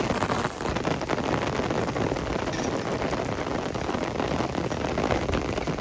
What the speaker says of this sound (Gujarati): વરસાદ થઈ ગયો ફૂલ ચાલુ.